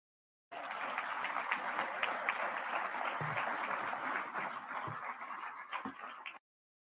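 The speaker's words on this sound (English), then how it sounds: "Look at the people applauding" An audience applauds in a steady, dense wash of clapping that starts abruptly, holds for about six seconds at a moderate, slightly distant level and then cuts off.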